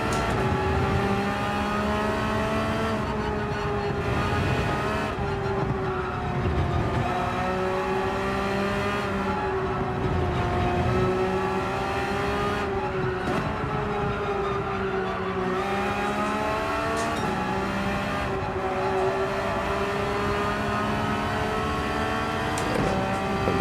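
A Group 3 race car at Suzuka in Gran Turismo 7 drives with a steady, loud engine drone that rises and falls through gear changes, with brief tire squeal and no voices.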